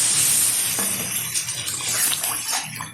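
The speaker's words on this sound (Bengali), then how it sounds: "এখন দিয়ে দিচ্ছি এর মধ্যে একটু জল।" A little water poured into a pan of spiced koi fish curry cooking in oil, a steady close splashing rush that settles into a softer bubbling hiss.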